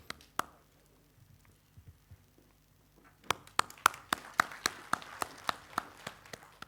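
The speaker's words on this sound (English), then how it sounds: "let's give a big round of applause" Audience at a university academic ceremony breaking into applause, a few isolated claps at first and then a steady run of sharp hand claps that grows fuller, fairly close and moderately loud.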